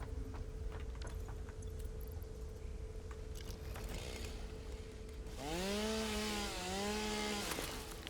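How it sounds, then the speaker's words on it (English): A chainsaw in the factory-building video game Satisfactory drones steadily at idle, then rises into a louder revving whine for a few seconds before easing back down. "Chainsaw. Chainsaw. Chainsaw."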